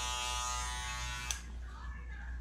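Andis cordless hair clipper running with a bright, close buzz for over a second, then cutting off abruptly, leaving a low hum and faint room noise.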